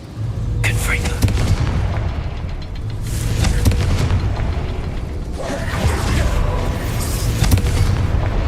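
A Confringo spell blast in the Hogwarts Legacy video game bursts out in booming explosions, three heavy surges with crackling debris spread over several seconds under game ambience.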